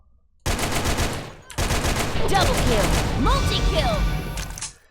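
AK47 fire in the Korean shooter Sudden Attack, dense full-auto bursts starting abruptly, pausing briefly, then continuing loud and close for several seconds before cutting off.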